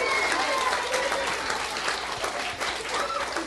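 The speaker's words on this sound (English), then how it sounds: "Now that deserves a big round of applause." Sustained audience applause at a city council meeting, a dense, even wash of many hands clapping that fills the room throughout.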